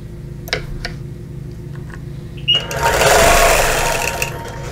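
A sewing machine free-motion quilting a petal shape on a Flying Geese quilt, first a few sparse clicks and ticks, then a close, loud, steady whirring run of stitching.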